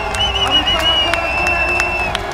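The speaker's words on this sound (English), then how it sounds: "And the crowd is going wild" Crowd cheering and roaring at a Battle of the Nations 2015 armored 5 vs 5 fighting tournament in Prague, a steady loud wash of voices with sharp whistles and shouts rising above it throughout.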